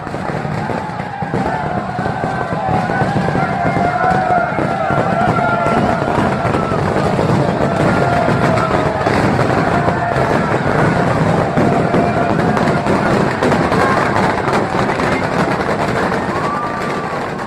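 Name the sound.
fireworks display for Senhor do Bonfim on January 1st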